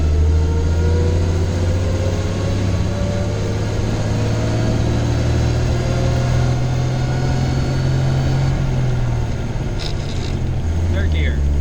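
A 1928 Buick engine drones steadily while driving in second gear, its pitch slowly rising then dropping as the gear holds, with wind buffeting throughout.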